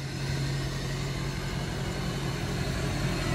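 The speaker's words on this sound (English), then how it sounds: "And that's your Predator custom exhaust." A 1994 Hummer H1 with a Duramax diesel and a Predator custom exhaust idles close by, a steady low rumble with an even tone, holding constant with no revving and no voices.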